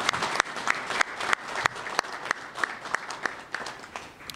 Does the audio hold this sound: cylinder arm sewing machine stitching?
no